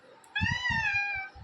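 A child imitates a cat, giving one drawn-out, high, wavering meow over soft background bumps and breaths.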